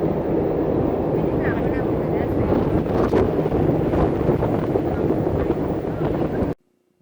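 Steady wind rush and rumbling engine drone from a moving boat, loud and continuous for several seconds before cutting out abruptly.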